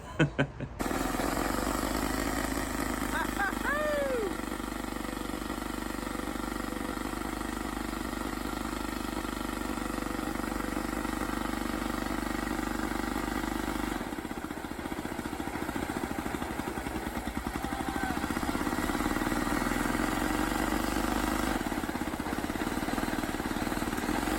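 A restored bulldozer engine runs steadily for the whole stretch, a continuous loud rumbling idle with mechanical clatter, close by and unbroken, with no talk over it.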